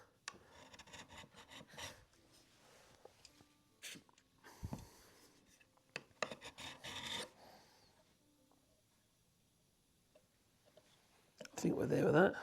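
A tungsten carbide Festool Domino cutter is sharpened by hand, giving soft, scratchy rasping strokes back and forth in short bursts, faint and close, with quiet pauses between passes.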